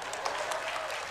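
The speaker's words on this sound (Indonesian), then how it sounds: "Boleh kok kalau mau tepuk tangan." Audience applause from a church congregation during a sermon, steady broadband clapping filling the whole short stretch at moderate distance, with no clear voices over it.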